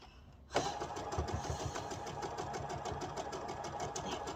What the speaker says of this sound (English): Just keep sewing straight all the way across the two halves.